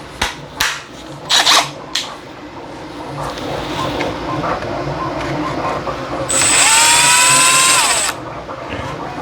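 A cordless drill spins briefly to remove a bolt from an H10 optic shock absorber, a sharp rising-then-falling whine of about two seconds, preceded by metallic clicks and handling knocks close by.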